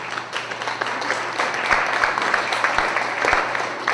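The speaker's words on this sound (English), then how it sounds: "Please give them some applause." Outdoors in a park during a weekend picnic event, a small group applauds, the clapping uneven and fairly close, with individual claps standing out against light ambient noise for a few seconds.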